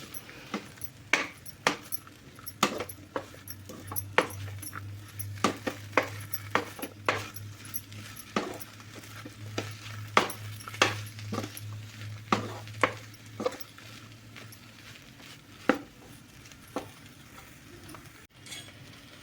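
A spoon scrapes and clinks around a pan while chapati pieces are mixed into mutton keema gravy over a low flame: a string of sharp, irregular metallic taps spread across the whole stretch, with a low hum underneath.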